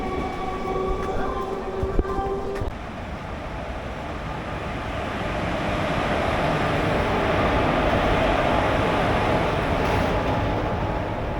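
The Sealdah–Jangipur Express rumbles at Naihati station platform, a steady rolling roar that swells louder midway, with faint clanks early on.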